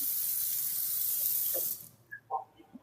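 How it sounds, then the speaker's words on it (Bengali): Water is poured into a cooking pot for a Bengali home-cooked dish, a steady close splashing rush that stops partway, followed by a few faint clinks and knocks. "একটু জল ঢেলে দিই, গরম হোক"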